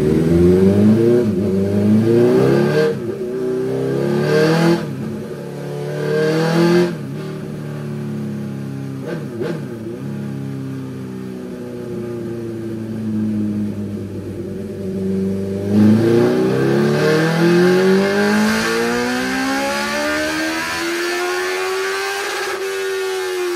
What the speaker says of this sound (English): So that's the dyno run done after we've done a bit of tuning with the Woolich Racing software.